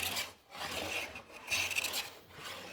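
A hand plane taking deeper cuts along a wooden board makes a close, raspy shearing swoosh with each stroke, three or four pushes separated by brief pauses.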